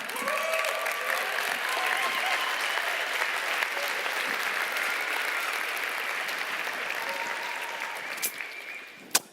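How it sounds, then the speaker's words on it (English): Audience at a design conference breaks into sustained, dense applause that holds steady and then thins out, with a few final claps near the end. "if you give him a really big round of applause"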